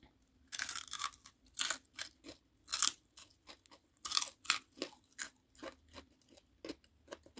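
Crunchy fried pork rind (torresmo a pururuca) being bitten and chewed up close, a quick series of sharp, loud crackling crunches in irregular bursts with no talking.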